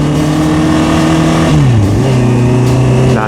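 Motor vehicles pass on a busy paved, fenced road near Taytay, Antipolo in Rizal, with a steady loud engine drone that dips in pitch midway as a vehicle goes by, no talk over it.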